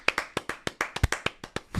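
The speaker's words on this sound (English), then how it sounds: "can we just maybe just a little round of applause for 250?" A small group gives a slow, sparse round of applause for a podcast's 250th episode, about a dozen distinct close hand claps in an uneven rhythm with no talking over them.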